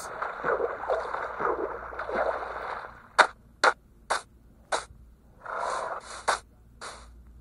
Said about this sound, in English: And here's a horse.